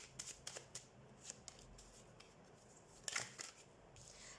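Tarot cards are drawn and handled from a deck, giving quiet, close slides and papery flicks in short irregular bursts, with one brighter snap near the end over near silence.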